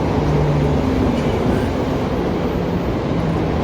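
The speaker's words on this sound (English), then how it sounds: "Then you hear the train behind me" A train passes in downtown Chicago, its steady, loud rumble and roar filling the whole stretch with faint tonal squeals over dense low city noise.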